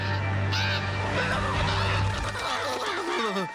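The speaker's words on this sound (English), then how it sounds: "But you'll see crows are attacking you" Crows attack in the Sky Bridge area of the Nintendo game Luigi's Mansion 2: Dark Moon, giving harsh, squawking bird calls over a steady game soundscape with a low hum.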